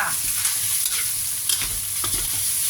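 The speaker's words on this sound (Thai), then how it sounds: "ทีนี้เราก็ใส่ซอสกะหรี่ลงไปนะคะ ประมาณหนึ่งช้อนปูนๆนะคะ ผัดเลยจ้า" Rice and curry sauce are stir-fried in a pan, giving a loud continuous sizzle broken by several sharp scraping strokes of a spatula, with no talking.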